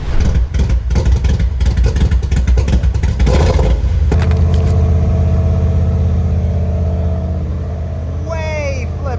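A car engine runs after a failed old fuel pressure regulator was replaced. A loud, close, clattering idle with some revving gives way to a smoother steady drone, with a voice speaking briefly.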